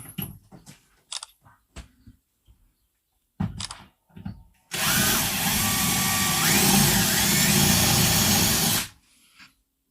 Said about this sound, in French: je vais peut-être passer sur la grosse mèche